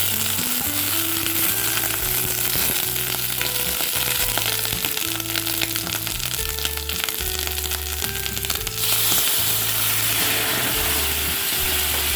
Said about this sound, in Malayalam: അതിലേക്ക് ചതച്ച വെളുത്തുള്ളിയും പച്ചമുളകും കറിവേപ്പിലയും പച്ചമുളകും ഇട്ട് നന്നായിട്ട്